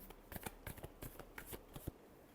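A deck of tarot cards is shuffled close by, a run of crisp riffling clicks and flutters in quick irregular bursts, with no voice over it.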